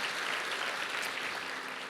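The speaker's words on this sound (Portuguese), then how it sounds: "então dê um aplauso a ele" Steady applause from a church congregation during a service, a dense even patter of many hands that holds at one level throughout.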